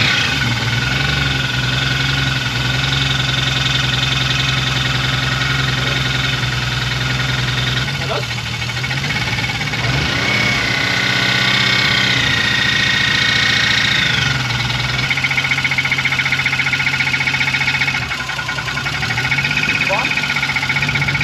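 A turbocharged BMW E36 328i engine runs at a steady idle with a possible VANOS noise, a loud, continuous rumble with a high whine and faint rattling, heard close up while voices talk over it.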